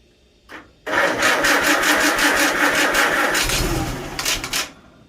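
After a brief click, a Farmall Super A tractor engine cranks and catches, running with a steady rough chug that surges near the end before cutting off.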